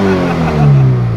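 A rebuilt Toyota GT86 engine runs loud and close, its revs climbing and wavering in a brief, steady growl.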